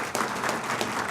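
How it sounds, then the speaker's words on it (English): Audience applause at a Veterans Day program, a dense, steady wash of many hands clapping that fills the short stretch at even loudness. "Let's give them another round of applause."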